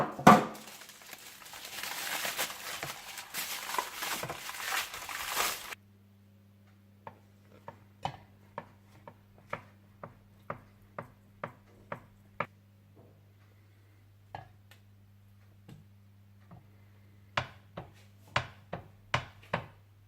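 A knife slices through frozen shahi kulfa on a board, producing a series of sharp, separate taps and clicks at a steady, unhurried pace, quiet and close, after a brief noisier stretch at the start.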